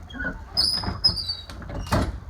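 Door of a 1999 Blue Bird Freightliner FS-65 school bus opening, with a squeaky mechanical whine and a few clunks of the folding panels, close by.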